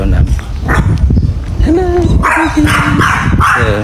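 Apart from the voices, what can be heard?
chihuahua barking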